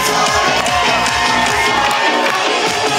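Wedding guests at the Fortin de Corbières greet the newlyweds with loud, close cheering and whooping, a dense festive crowd roar with rhythmic clapping running through three seconds.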